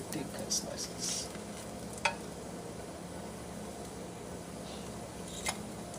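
Thick-cut bologna slices sizzle steadily in a hot pan, a continuous close frying hiss broken by a few sharp clinks of a utensil against the pan.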